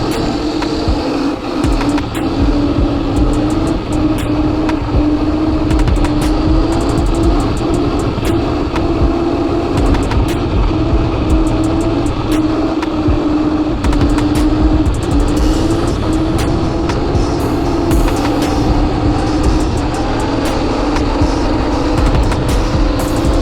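A 72v Sur Ron electric bike climbs uphill under steadily increasing throttle, its motor whine loud and continuous throughout, mixed with wind rush and road noise.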